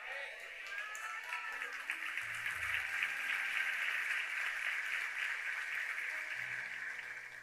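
An audience at a church congress claps, a moderate, sustained patter of applause, fairly distant, with a voice briefly audible underneath.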